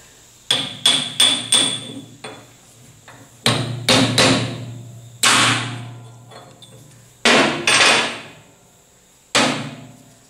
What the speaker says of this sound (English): Let's just get in here with our hammer and chisel and see what kind of damage we can do.